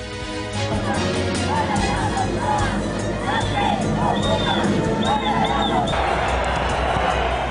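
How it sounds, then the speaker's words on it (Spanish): A large crowd at Spain's national day parade boos and jeers Pedro Sánchez, a dense, steady roar of voices with whistles and shouts rising above it, continuous and loud throughout. "Abucheo e indignación de los españoles"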